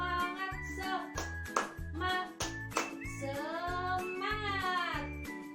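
Children in a primary school science class clap out a rhythmic cheer, even, regularly spaced claps under sung and chanted voices that carry a melody.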